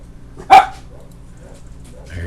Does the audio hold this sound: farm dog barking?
yes